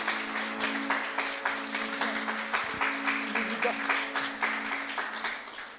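A church congregation applauds during a Sunday service, with sustained, even clapping at moderate level, a held organ or keyboard tone underneath, and voices faintly audible.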